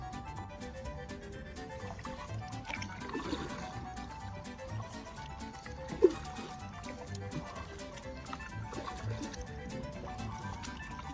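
A canoe paddle dips and pulls through cold lake water at SpringLakes in Long Eaton, making steady close splashing and dripping with gurgling under a continuous watery wash.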